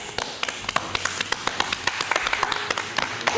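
A handful of audience members clap in a rap-themed talk-show studio, giving sparse, sharp, uneven claps that start and stop irregularly rather than building into full applause.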